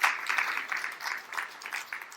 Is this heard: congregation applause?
yes